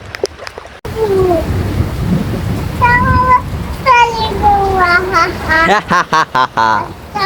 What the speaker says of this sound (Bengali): দেখেন এখনও বৃষ্টি হইতেছে ধুম বৃষ্টি